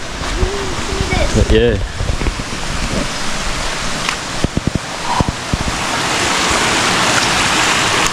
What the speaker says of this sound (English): All that rainwater pumping down.